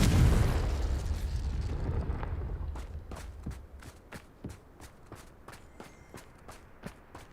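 A Confringo fire spell explosion in Hogwarts Legacy, a loud booming burst at the start that rumbles and fades, followed by a run of sharp footsteps or crackles spaced out after it.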